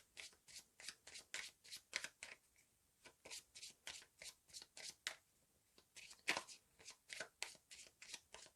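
A deck of playing cards for the Pandemic Legacy board game is riffle-shuffled again and again close by, each quick burst of flicking cards followed by a brief pause, in a quiet room.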